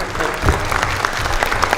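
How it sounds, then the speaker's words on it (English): Crowd at a community evening held in an elementary school applauds the school principal, a brief burst of many hands clapping at moderate volume. "Can you give her a big round of applause, everybody?"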